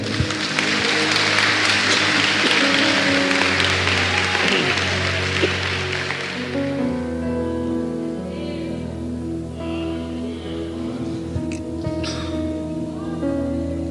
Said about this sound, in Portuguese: Eu gostaria que você desse uma salva de palmas